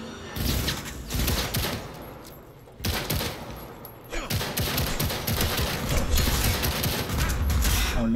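Pistol fire in Cyberpunk 2077 rings out in loud, dense bursts of shots with mechanical clatter, pausing briefly twice before resuming steadily, with no speech.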